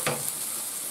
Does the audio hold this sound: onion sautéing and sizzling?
yes